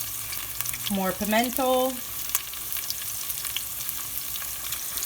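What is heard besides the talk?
green onion and thyme frying in seasoned oil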